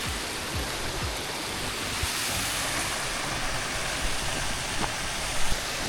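A mountain stream on the Kyarkoti trek in Uttarakhand rushes steadily and loudly nearby, a constant broad wash of flowing water with some wind noise mixed in.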